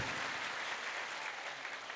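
Applause congratulating Swami Shivgiriji Maharaj at a temple anniversary gathering in an ashram, a brief, steady burst of crowd clapping heard from a distance, fairly faint.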